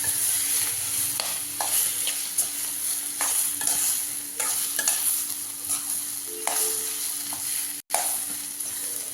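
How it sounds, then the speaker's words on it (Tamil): Potatoes stirred into a sizzling tempering in a pan for potato bonda, a constant close frying hiss with repeated scraping and stirring strokes, no talk. "இப்போ இதிலே வந்து உருளைக்கிழங்கு போட்டுக்கலாம். நல்லா கலந்து விட்டுக்கலாம்."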